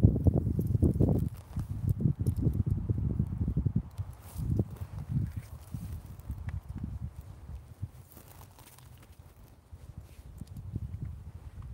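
Hooves of a horse walking in a windy Colorado pasture, soft thuds in an uneven plodding rhythm, louder at first and then fainter, with wind noise and rustling.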